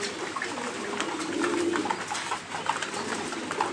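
Pigeons feeding on grit give off a brief low coo amid a busy hiss of pecking and background noise, the call faint and close, with no talking.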